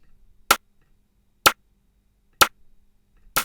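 Snare sample made from makeup palette sounds: four crisp, bright clacks evenly spaced about a second apart, each short and sharp against near silence.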